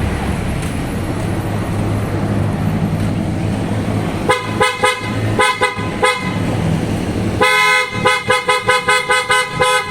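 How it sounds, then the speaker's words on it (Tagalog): Loud, bright PIAA air horns on a Toyota Hilux pickup honk in a stuttering series of short bursts, then a longer run of rapid toots, over a steady roadside engine rumble. "Testing natin yung horn ni Sir,"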